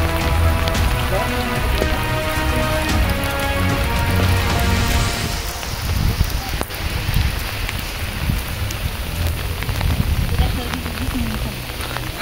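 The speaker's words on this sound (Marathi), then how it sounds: "लोकांनी आडोसा घेतलाय पाऊस आल्यामुळं" Steady rain patters on surfaces at Rajgad Fort's Brahmeshwar temple in a dense, continuous hiss, with voices of sheltering people murmuring faintly beneath the downpour.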